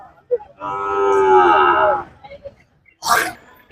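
A bull lows in one long, loud bellow lasting over a second at a livestock market in Manapparai, followed by a sharp snort or sneeze-like burst, with market background noise.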